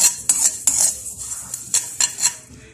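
Sesame seeds and peanuts being turned in a hot pan to warm their oil: bright, close metallic scrapes and clinks of a utensil against the pan, repeating in quick irregular strokes with no voices.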